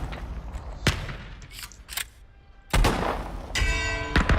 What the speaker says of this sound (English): So what I'm doing at this first part is I'm trying to ring the bells.